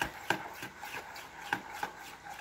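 A spoon stirs a banana and oatmeal mixture in a bowl for fried banana maruya, making soft, irregular scraping taps, quiet and close with no talking.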